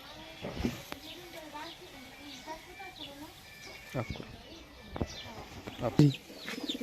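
Pigeons in a loft that hold birds from a racing club, heard as soft scattered coos and wing flutters amid background chatter, with a few sharper flaps and calls near the end.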